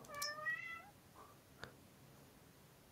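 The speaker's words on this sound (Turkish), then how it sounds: "Kedi de bu aralar beni rahatsız ediyor." Cat meowing indoors, one faint, short meow near the start, then a quiet room with a small click.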